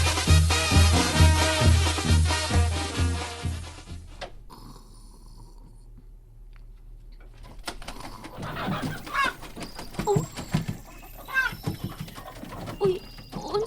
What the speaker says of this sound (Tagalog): Naunsa naman sa ning mga manok sa tangkal?